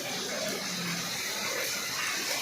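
Heavy rain water pours and splashes steadily during a downpour in a village, a dense continuous gushing that stays close and even throughout with no voices.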